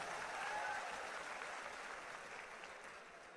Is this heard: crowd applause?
yes